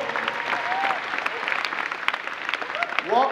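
Audience applause at a Luther College welcome gathering: a steady, dense wash of clapping from a large crowd lasting a few seconds, with a few cheers and whoops rising above it near the end.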